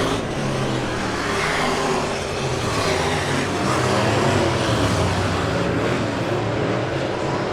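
Super stock race cars roar continuously in a heat race at Lebanon Midway Speedway, a loud, dense wash of engines running single file with no break.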